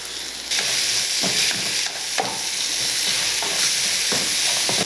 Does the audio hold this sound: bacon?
yes